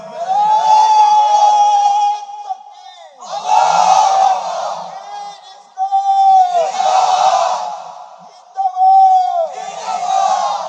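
A large gathered crowd at an Islamic religious gathering shouts the takbir together in several loud, rhythmic unison calls, each swelling and falling with short pauses between.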